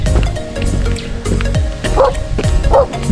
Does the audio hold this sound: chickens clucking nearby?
no